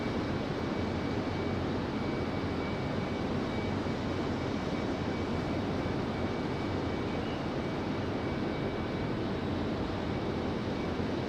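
A CRJ regional jet at Raleigh-Durham International Airport produces a steady, broad engine roar that holds unchanged for about eleven seconds, loud and constant with a windy wash and no talking.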